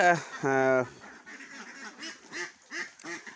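Ducks on a duck farm give a run of quacks: one loud, drawn-out call up close, then a series of shorter, softer quacks following in uneven rhythm.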